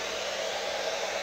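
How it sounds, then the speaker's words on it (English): A blow dryer runs continuously to dry a Plasti Dip coat sprayed on a laptop, a steady, close, even airy whir with no pauses. "This is just me using the blow dryer."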